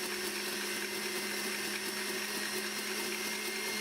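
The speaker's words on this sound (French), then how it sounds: "Donc là, la montée des blancs donc, est réalisée plutôt en mode en temps normal" A stand mixer whips egg whites for chocolate mousse at normal speed, a steady, even motor whir with a constant hum and faint high whine, close and uninterrupted, with no talking.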